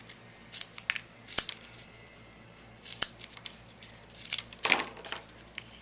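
Scissors snipping pieces of foam tape for a paper craft, sharp crisp cuts scattered in small clusters, close up, with light rustling of the tape between them.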